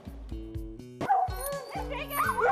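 Dogs at a riverside fish camp in Alaska in autumn give a run of short, fairly close yips and whimpering whines, with a few higher rising cries partway through.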